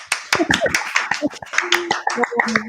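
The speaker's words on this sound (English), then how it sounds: "Oh, she gets an applause." A few people clap for a guest speaker at an informal happy hour event, sharp uneven close hand claps over about three seconds, with voices talking and exclaiming under them.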